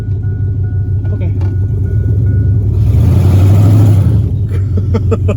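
A GMC truck's 4.8 V8, healthy but with a manifold tick and no muffler, revs hard during a burnout, rising into a loud raw roar mid-way over a rumbling idle, with people talking around it.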